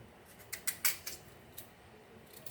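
A knife cuts peeled potatoes into big bite-sized pieces: a quick run of quiet, crisp clicks from close up, then a few sparser cuts with no talking.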